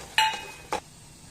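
A utensil clinks against a pan while tomato sauce is stirred into chapathi noodles: two brief, close metallic taps about half a second apart in a quiet kitchen.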